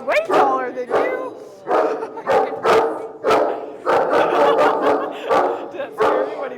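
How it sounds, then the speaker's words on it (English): Sarge, a big dog, barks in a run of loud, close, repeated barks spread through the clip, amid excited voices and what sounds like a crowd of schoolchildren. "Did that scare you when he barked?"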